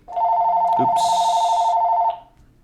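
A single electronic telephone ring from an incoming call: a steady, loud, close tone lasting about two seconds, then it stops, with no talking over it.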